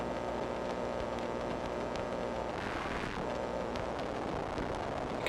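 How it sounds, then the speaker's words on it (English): Mechanical and electrical noise run through a tape emulation with flutter gives a dense, quiet, continuous hiss and hum whose texture wavers slightly, alone and unbroken throughout. "and this is what the flutter does"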